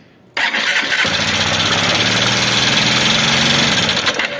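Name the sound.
Honda Bros 150 motorcycle engine being started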